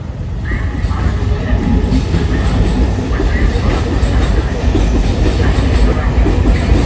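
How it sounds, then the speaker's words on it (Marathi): A train rolls past a closed railway level crossing, loud and near, its wagons producing a steady rumble with rhythmic clicking of wheels over rail joints throughout. "हे बघा अजून एक ट्रेन येते वाटतं."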